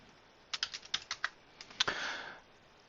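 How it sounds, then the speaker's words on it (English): Someone types a search on a computer keyboard: about a dozen crisp, close keystrokes in a quick irregular burst, then a brief softer rustle, all quiet with no voices. "To create a search, simply type in the name of a topic that you'd like to create."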